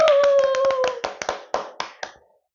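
Hands clap in a quick burst of about a dozen sharp claps to mark the reopening of the Gasan-dong community center after six months of construction. The claps thin out and fade within two seconds, with a brief vocal tone at the very start.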